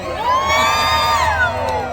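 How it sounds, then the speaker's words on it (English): A live holiday-show crowd at Disney California Adventure cheers and whoops continuously, loud and close, with high shrill voices rising and falling through the whole stretch. "You guys need to cheer harder so they pay me more."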